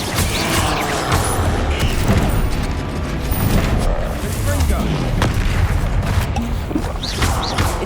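Bombarda explosion spells cast in Hogwarts Legacy, a continuous loud rumble of booms, crashes and magical blasts with dense game effects filling the whole stretch.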